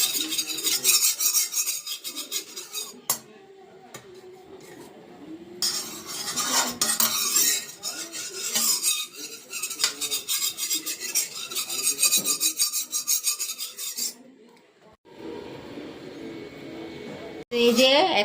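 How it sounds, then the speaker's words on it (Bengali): Ghee being spread around the inside of a kadai for biryani: steady scraping and rubbing of a utensil against the metal pan, with rasping strokes and occasional clinks, close and continuous, with a brief lull near the end. "তো এই যে কড়ার মধ্যে বানাবো বিরিয়ানি, তো একটু ঘি মাখিয়ে নিচ্ছি কড়ার মধ্যে"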